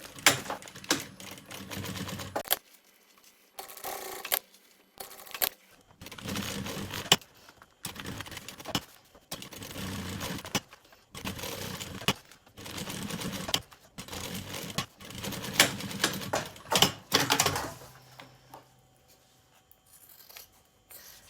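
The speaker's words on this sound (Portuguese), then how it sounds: "vamos voltar a fazer uma costura a toda a volta para segurar então o forro ao nosso material" Sewing machine stitching a lining all around onto fabric for a child's lunch bag, running in repeated short mechanical bursts separated by brief pauses, close and fairly loud with no speech.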